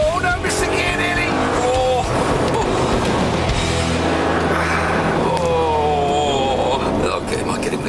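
An Audi R8 and a Porsche C4S launch side by side from a standing start, engines roaring hard through gear changes with tyre noise, loud and continuous throughout while someone talks excitedly over them.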